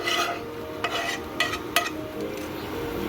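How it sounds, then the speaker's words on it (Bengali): A spatula scrapes and stirs spice paste frying in oil for a snakehead fish curry. A few sharp scraping strokes rise over a soft, steady sizzle, with no talking. "মশলাটা একটু ভালো করে কষে নিচ্ছি যতক্ষণ না তেলটা ছেড়ে দেবে"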